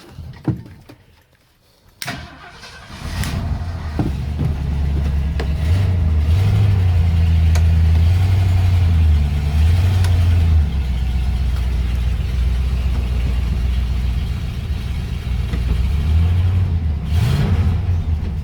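A 1967 Ford Galaxie engine starts after a couple of clicks and a crank, then settles into a loud, deep, rumbling idle with revs rising and falling, close by.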